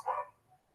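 A single short dog bark, faint and distant, one brief yelp that fades quickly into quiet room tone.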